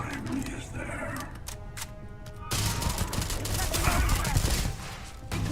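Rapid gunfire in the space shooter game Starfield, survival mode, as bursts of automatic shots and heavy volleys crackle loudly, pausing briefly before a denser barrage erupts midway and keeps going.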